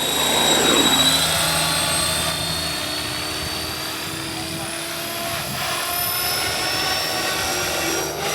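Blade Fusion 360 RC helicopter on a 6-cell battery flying with a high head speed, its rotor whine and buzzing motor loud and continuous, shifting in pitch as it maneuvers overhead.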